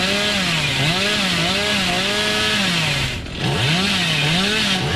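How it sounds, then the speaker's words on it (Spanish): A chainsaw in Dead by Daylight revs in rising and falling waves, its engine whine swinging up and down in pitch, loud and close, with a brief dip before it revs up again. "La motosierra de ahora, tú, que se pone, vamos, se pone al rojo vivo."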